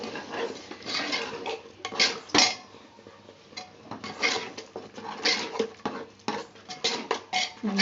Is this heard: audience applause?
no